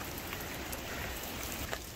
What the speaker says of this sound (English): Rainy days at work. Look at the rain, it's proper coming.